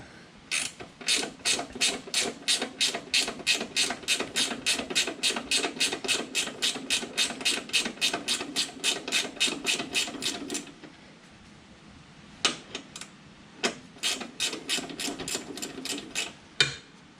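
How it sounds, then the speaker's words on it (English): A hand ratchet works a bolt loose on a John Deere 425, 445 or 455 tractor during a three-point hitch installation: fast, even metallic clicking in a long steady run, a brief pause, then slower, uneven clicks resuming close by. "most likely I will end up actually having to ratchet it out"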